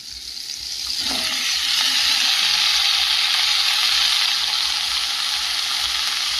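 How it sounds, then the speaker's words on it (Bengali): Chopped Malabar spinach, potato and pumpkin hit hot oil in a pan where prawns were just fried, and a loud, dense hiss swells up within a second and then holds steady and bright. "এই পর্যায়ে কেটে রাখা সবজিগুলো দিয়ে দেবো।"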